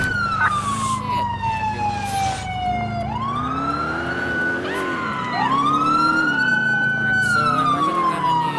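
A police car siren wails and yelps in a GTA IV pursuit through Little Italy, rising and falling loudly and continuously over a low engine rumble, with scattered voices underneath.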